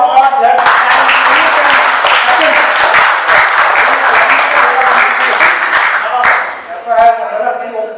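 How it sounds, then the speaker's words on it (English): An audience applauds loudly and steadily for several seconds, dense clapping that carries on with a few scattered voices before tapering near the end. "Big round of applause."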